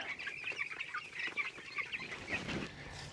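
Chickens clucking and calling at a farm, several birds sounding in quick irregular bursts at moderate distance over steady outdoor background noise.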